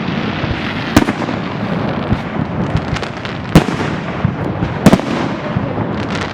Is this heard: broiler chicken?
no